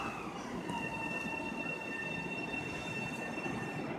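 A Long Island Rail Road train rolling through Woodside station, with a steady loud rumble and sustained high metallic wheel squeal, close and continuous with no talking.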